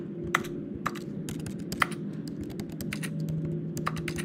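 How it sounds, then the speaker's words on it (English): Computer keyboard and mouse clicking in a room during a game of The Stanley Parable, a run of close, crisp taps at irregular intervals over a steady low hum. "I can click my mouse and keyboard all the time."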